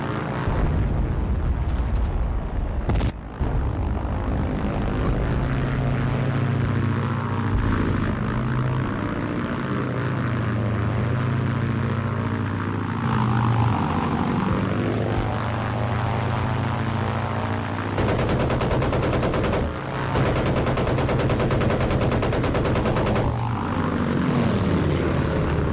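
Propeller aircraft engine drones loudly and steadily through a bombing run in a Battlefield game, with booming explosions and gunfire layered over the continuous roar.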